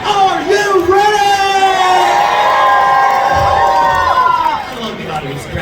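An audience at a circus sword-swallowing show at an oddities expo in Minneapolis cheers and whoops loudly and close by, a sustained roar of voices with children shouting that swells and then tapers off.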